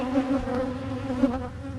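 Bees buzz close around the camera, a fairly quiet, wavering drone that rises and falls as individual insects pass near, with no talking.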